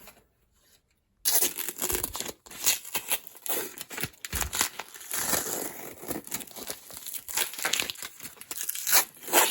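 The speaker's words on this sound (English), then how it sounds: "So I've just got to peel all this off now." Protective covering is torn and peeled off a sidelock gun stock in a workshop, a close run of ripping, crinkling bursts after a quiet start, irregular and fairly loud.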